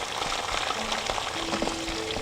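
Pieces of chicken 65 fry steadily in hot oil, a dense, even sizzle and bubbling that holds at a constant level throughout with no voices.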